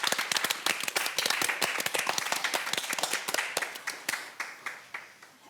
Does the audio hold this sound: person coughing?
no